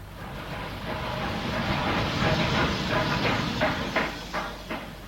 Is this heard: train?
yes